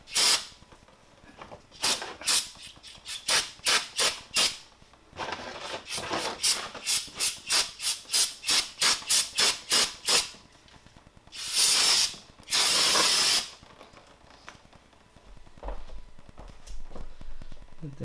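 Repeated short bursts of aerosol brake cleaner spray hiss in quick succession on a 2012 Nissan Sentra's brakes, with a couple of longer sprays, close and fairly loud, then faint clattering.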